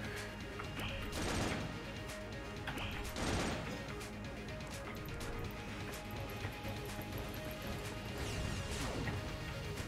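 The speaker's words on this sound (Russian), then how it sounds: "Огромные выстрелы летают по комнате." Gunfire in the video game Enter the Gungeon: dense, continuous bursts of shots with crashing impacts, several louder volleys standing out against a busy, loud backdrop of game sound throughout.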